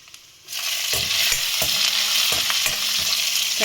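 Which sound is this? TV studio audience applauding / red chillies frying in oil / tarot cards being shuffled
red chillies frying in oil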